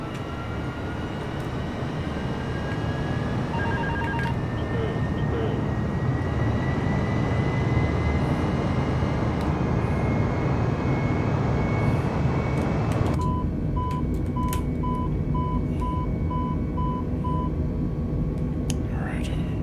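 A simulated airliner rolls down the runway on takeoff in Microsoft Flight Simulator, a steady broadband engine roar under quiet talk, with cockpit warning tones chiming near the end.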